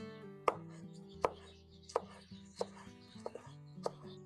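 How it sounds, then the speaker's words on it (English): Knife chopping matchstick-cut carrot finely on a cutting board, about eight crisp separate chops at an uneven pace, close up and alone. "take your matchstick size carrot and chop it up finely"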